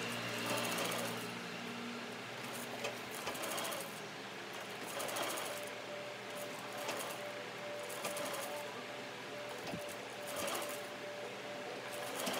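A sewing machine stitching the sleeve seams of a princess-line blouse runs in a steady mechanical whir broken into repeated bursts, fairly quiet, with no speech.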